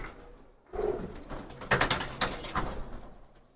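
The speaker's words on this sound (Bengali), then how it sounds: "লালপাড়ি কবুতর একটু আপনাদের দেখাই" A Lal pari pigeon, shown off alongside other pigeons, gives soft cooing and wing rustles close by, with a louder flurry of flapping midway and faint chirps from other birds in the background.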